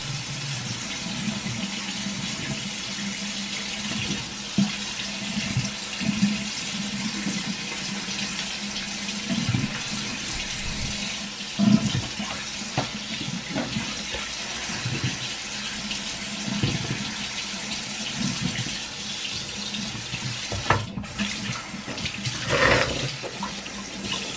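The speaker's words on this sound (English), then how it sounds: "And then I'll just wash my teaspoon with hot water here." Hot water runs steadily from a bathroom tap into a sink as a metal teaspoon is rinsed under the stream, with a continuous splashing wash and a few small clinks, close by and without talk.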